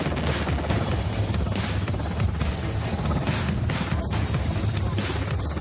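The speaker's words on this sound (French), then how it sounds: "le vent déséquilibre l'hélicoptère qui a du mal à toucher le sol" A military helicopter struggles to land on a slope in strong mountain wind, its rotor and turbine a loud, close, steady roar with rhythmic blade thumping and wind buffeting.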